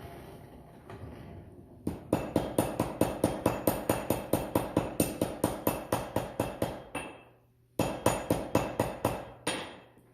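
A hammer strikes hot metal at a coal forge in a rapid steady rhythm, loud and close, pausing briefly before another fast burst of blows.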